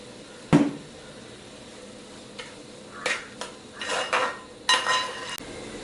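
A spoon scraping and clattering against a pan while stirring chicken ginger curry, scattered metallic knocks and scrapes over a soft sizzle, with no talking.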